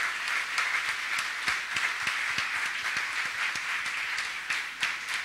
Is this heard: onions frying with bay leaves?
no